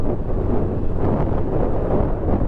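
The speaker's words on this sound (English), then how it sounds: "I'm doing 35, and the wind is ridiculous, man." Wind buffets a rider on a Honda CBF 600 motorcycle at 35 mph, a loud, constant low roar that stays close and unbroken, with no voices.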